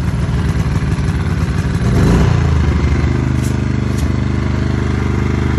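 A portable generator engine starts up and settles into a steady, loud mechanical drone with a slight clatter, heard close by with no talking.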